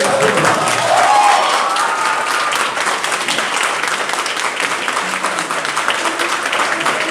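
An audience at a city council session applauds steadily and fairly loudly for several seconds, with a dense, even patter of clapping and some voices underneath.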